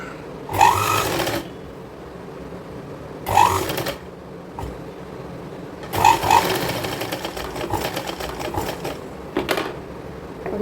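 A sewing machine runs in short bursts while stitching a girls' cord set, three distinct rattling runs separated by pauses, the last one longer and continuous, close and clear.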